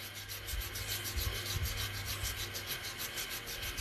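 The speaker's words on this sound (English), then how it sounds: "we'll run this way, take out any of those sanding lines with the grain" Wood being sanded by hand along the grain on a turned kitchen tool, a steady rhythmic rubbing and scratching of abrasive strokes, close and continuous with no talking.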